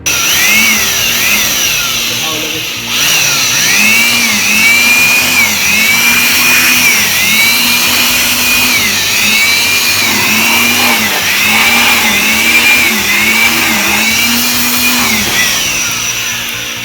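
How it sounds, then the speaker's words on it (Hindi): An electric blower cleans out a desktop computer's CPU cabinet, its loud, steady motor whine pulsing gently up and down in pitch, close and continuous with no talking. "अगर आपके पास ब्लोअर हो तो ब्लोअर से साफ़ करिए"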